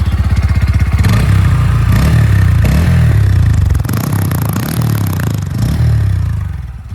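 A Bajaj Pulsar N150 motorcycle engine idles with a loud, rapid thumping beat, revving up briefly several times before settling back, close to the microphone.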